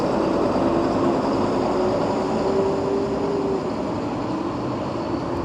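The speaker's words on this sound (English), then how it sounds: "the train's on its way back again." A low, steady rumble of a passing Nærumbanen train with a faint whining tone on top, continuous and moderately loud throughout.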